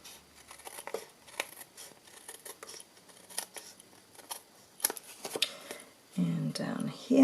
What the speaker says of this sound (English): I just need to get my snips and trim these pieces off the back